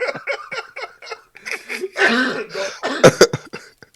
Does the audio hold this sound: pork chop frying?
no